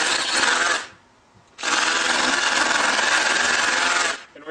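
A power drill with a 10mm bit bores holes for wall plugs while a satellite dish is mounted: a short grinding burst, a brief pause, then a longer steady drilling run of about two and a half seconds. No voices are heard.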